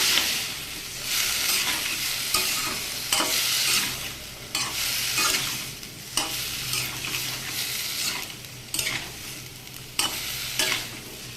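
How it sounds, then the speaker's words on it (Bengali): Cauliflower and potato pieces sizzle and fry in a pan while being stirred, a steady loud crackle with repeated scraping strokes of a spoon, no talking. "এটা দিয়ে আমি সবজিটা একটু কষিয়ে নেব"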